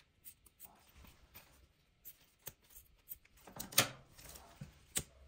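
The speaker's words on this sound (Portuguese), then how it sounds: "Agora eu vou cortar o excesso." Excess fabric being trimmed while sewing gives faint, scattered snips and rustles of scissors and cloth, with a few sharper clicks near the end, all quiet and close.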